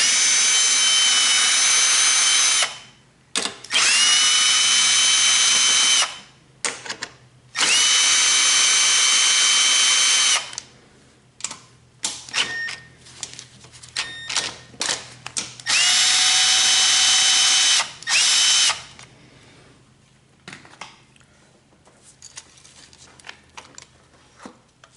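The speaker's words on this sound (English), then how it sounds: "we're going to take all 4 bolts off" A power drill backs out the four bolts on a Troy-Bilt Honda engine carburetor, loud, high whining bursts of several seconds each separated by pauses, followed by small clicks and handling noises.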